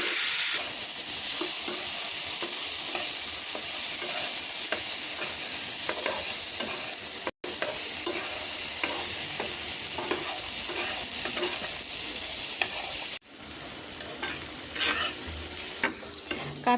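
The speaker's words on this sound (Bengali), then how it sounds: "এখন কাঁঠালের বিচিটাকে ভালো করে ভেজে নেওয়া হবে।" Jackfruit seeds fry with salt and turmeric in a pan, a steady loud sizzle with frequent stirring scrapes running throughout, briefly broken twice.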